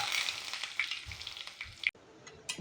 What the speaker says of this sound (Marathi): तेल तापलं, आपण गॅस बंद केलाय. हे घालू मोहरी, हिंग आणि हा कढीपत्ता.